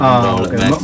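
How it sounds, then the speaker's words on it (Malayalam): Line pigeons coo at a loft, a brief, close, low throaty call heard alone for under a second. "അപ്പൊ അതാണ് കേട്ടോ ഈ ഒരു ലൈന് പ്രാവ്"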